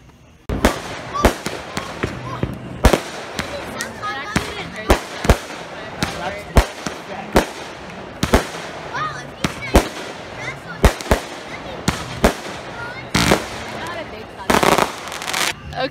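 Fourth of July fireworks explode in a rapid, irregular string of sharp bangs and crackles, some near and loud, others softer, with several bursts arriving in quick clusters.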